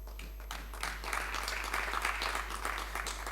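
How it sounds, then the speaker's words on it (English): Faint applause rises from members during a parliamentary tourism budget debate, a soft, distant patter over a steady low hum. "I was wondering when the applause was going to start happening, but at least it's here"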